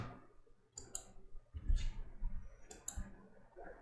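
Computer mouse clicks during a software installation, crisp and close, coming in quick pairs with a pause between, over faint room noise.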